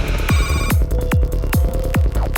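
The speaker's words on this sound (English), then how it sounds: "I think that ringtone was just part of the music." A telephone-style ringtone woven into the background music of an Xbox Live Indie Game, a steady electronic ring sitting over a thumping, regularly pulsing beat for a couple of seconds.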